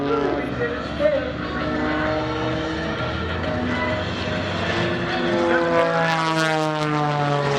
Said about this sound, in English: one of the premier Pitts aerobatic airplanes in the air show world today